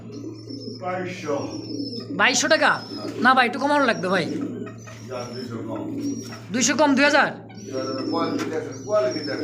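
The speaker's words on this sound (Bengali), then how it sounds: "আর এই যে ডাকাটা, এটা হচ্ছে নর কবুতর" A male pigeon at a pigeon sale coos in repeated throaty bursts close by, with other bird chirps around, while men haggle over a price on top of the sound.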